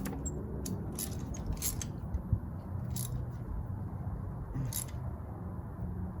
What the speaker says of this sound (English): Now I grab the ratchet.